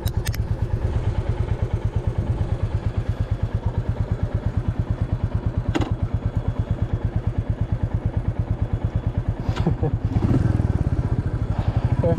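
A Royal Enfield 350 Meteor motorcycle is ridden toward a harbour bridge, its single-cylinder engine thumping in an even, close, steady rhythm throughout with light wind noise and a few faint clicks.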